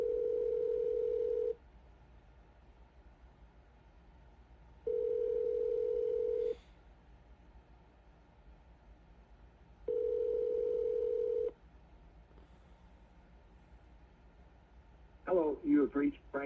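Ringback tone of an unanswered outgoing phone call to a business: three steady, long buzzing rings separated by quiet pauses, with a recorded voice briefly starting at the very end.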